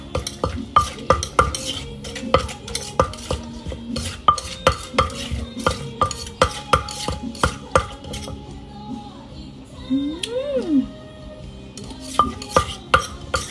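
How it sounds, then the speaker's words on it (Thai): Tomatoes being pounded and mixed for Thai som tam in a mortar: a run of irregular, clacking pestle strikes at close range, with a brief high squeaky tone near the end. "ผสมเข้าไปในครกก่อนค่ะ"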